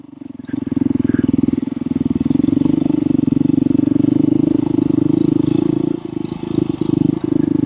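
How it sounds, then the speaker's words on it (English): Off-road motorcycles, including a 250 GasGas two-stroke, ride on ATV trails with a loud, steady engine drone held close by, a few revs and clattering bumps toward the end. "Scott on the, I think it's a 250 GasGas, two-stroke"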